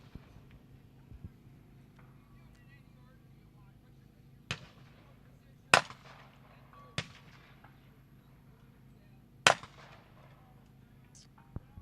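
Several sharp gunshots ring out at a practical shooting match in the Rocky Mountains, five distinct loud cracks spaced irregularly over a quiet outdoor background with faint talk.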